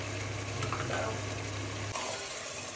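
Desi chicken, coated in salt, turmeric, cumin powder and mustard oil, sautéing in a pan gives a steady, close sizzle with faint stirring scrapes, running continuously and easing slightly near the end.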